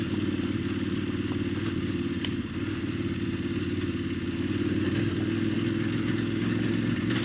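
Motorcycle ridden over a bumpy, rocky trail on Old Buxton Road, a steady close engine drone with rattling clatter from the bike bouncing over rocks, continuous throughout.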